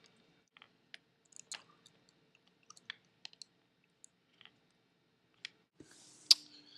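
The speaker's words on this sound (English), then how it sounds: "Click that into the spring." A Wouse brace snapping into its spring during assembly, heard as scattered faint dry clicks and small taps at irregular intervals, close and quiet, with one sharper click near the end.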